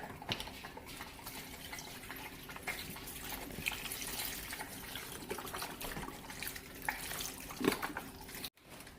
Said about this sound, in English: I'm going to go ahead and pour my beef broth in there.